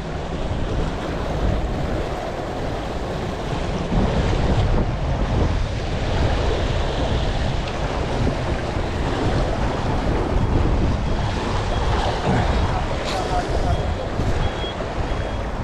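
Strong water current and breaking waves surge in a continuous, loud roar with gusty wind buffeting the microphone throughout, rising slightly in the middle and holding steady to the end.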